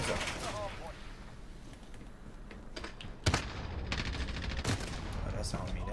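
Call of Duty gunfire, bursts of rapid shots and cracks over a busy game soundscape, loud and close, with sharp spikes partway through, and a voice talking at times.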